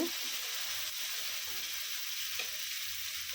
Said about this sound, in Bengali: ভালো করে ভেজে নেব যেন কাঁচা গন্ধটা না থাকে